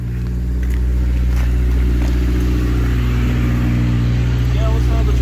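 A Ford Ranger truck engine idles and rumbles steadily with a deep exhaust drone, holding a loud, even note up close the whole time.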